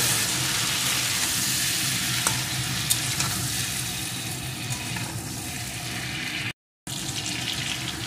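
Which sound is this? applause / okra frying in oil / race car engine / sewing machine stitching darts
okra frying in oil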